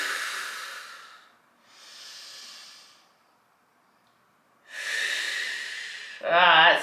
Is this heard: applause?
no